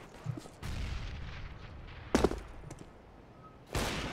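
A grenade goes off on the Cache map in Counter-Strike, with a few sharp, loud bursts spaced out over the seconds, separated by quieter in-game background noise.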